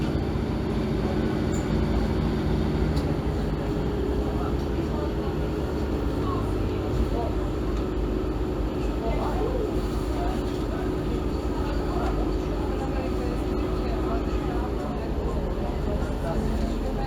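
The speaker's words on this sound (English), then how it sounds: "We are on our train now, 150-270. Listen to it purr away." A Class 150 diesel multiple unit, number 150-270, hums steadily along on a Northern service to York, heard from inside the carriage as a constant low engine drone and rolling rumble, with faint talk in the background.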